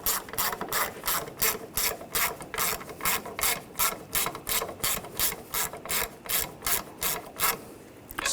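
Ratchet wrench tightening the valve cover nuts on a 2006-2010 BMW 550i 4.8L V8, a close, rapid run of rhythmic pawl clicks in quick strokes, with a brief pause near the end.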